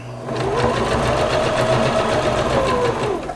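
A sewing machine runs steadily, stitching along the edge of blackout curtain fabric. It holds one continuous, loud, whirring rhythm for about three seconds, close up, and no voice is heard.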